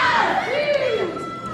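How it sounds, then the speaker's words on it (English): A wrestling crowd cheering for Salem Wilder at an indoor match, with loud shouts and rising and falling cries from several voices mixed into a steady roar of noise. "This crowd trying to fire up Salem to get that comeback started."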